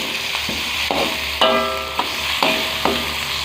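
Chicken head and crisp ingredients being stir-fried in a pan for a spicy asem-asem dish: sizzling bursts with repeated spatula scrapes and taps, close and fairly loud, no talking.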